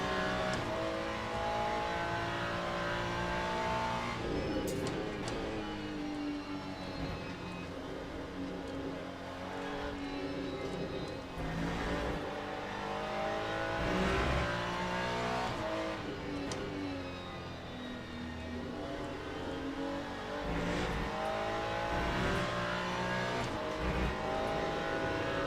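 A GT race car engine in the Le Mans Ultimate racing game, revving and droning steadily for a long stretch, with rising and falling pitch as it shifts through gears, loud and continuous with no talk.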